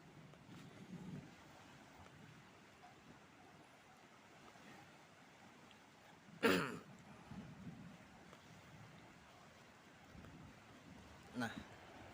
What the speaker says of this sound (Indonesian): memperlihatkan kepada kalian situasi tepi pantai yang ada di daerah Carlitas